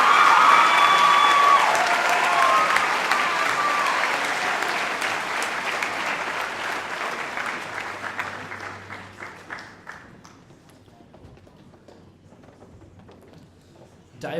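Applause and cheering for graduates at a high school Year 12 graduation ceremony, loud crowd clapping that gradually thins and dies away, leaving scattered claps and room noise.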